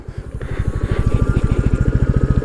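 A Royal Enfield Classic 350 Emerald Green motorcycle being ridden, its single-cylinder engine giving a steady, loud, close thumping beat with a mechanical clatter throughout.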